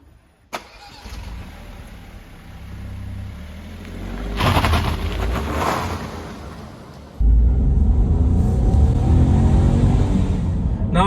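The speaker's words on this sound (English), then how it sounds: "Let's jump into the car and let's see how it drives." A 2023 Citroen C3 Aircross small SUV cranks, starts and pulls away, a door thunk and click, then a steady engine hum rising in loudness as road and engine noise fill the cabin.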